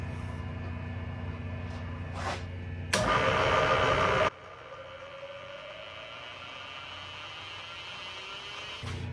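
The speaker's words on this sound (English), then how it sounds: "this is a good size Forstner bit, so I'm going to slow it down to about 500 RPM" Milling machine running a large Forstner bit at about 500 RPM in back gear, steady low motor hum with a loud broadband drilling burst for a second or so, then a quieter whir as it winds down.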